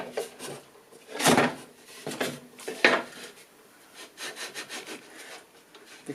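A metal pillar drill table being raised in a workshop gives scraping, rubbing and clunking knocks, irregular bursts close by with quieter rattles between them.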